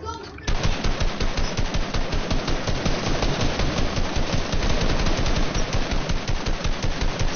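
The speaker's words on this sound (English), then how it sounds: "Can you guys stop shooting at me only?" Sustained automatic gunfire in an online shooter game, a continuous rapid machine-gun burst lasting several seconds, loud and dense, with no speech over it.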